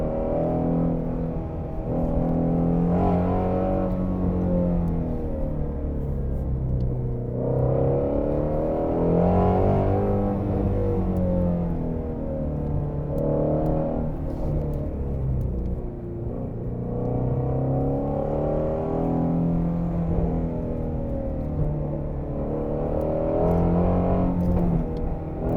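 A Shelby GT350R sports car's engine drones steadily from inside the cabin while driving, with a continuous low rumble and rising and falling revs and no talk.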